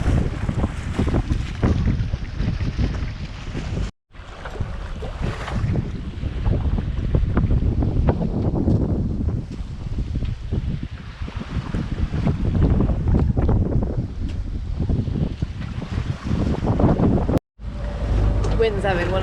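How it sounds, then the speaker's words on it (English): Gusty wind buffets a lone sailboat out on the Arctic Ocean, loud rumbling roar battering the microphone with constant surges, water sloshing beneath, and two brief dropouts. "The wind's having one of those days today where it just can't make up its mind what it wants to do."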